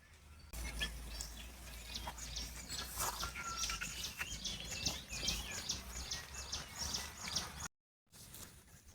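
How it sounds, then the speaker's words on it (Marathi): Sparrows chirp in quick, repeated bursts against a soft background outdoors in a Marathi village, cutting out briefly near the end before resuming faintly. "चिमण्यांचा आवाज काय चिव चिव करतं तेव्हा"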